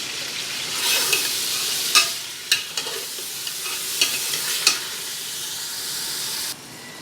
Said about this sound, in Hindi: चिकन ऐड करके इसे 10 से 15 मिनट भूनिए